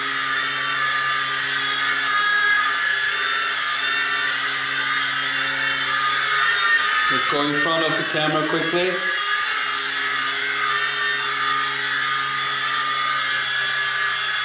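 A Black Spider-XT two-channel toy RC helicopter flies indoors, its steady high electric whine of small motor and rotor running throughout, briefly shifting pitch as it banks mid-clip, with a person talking over it.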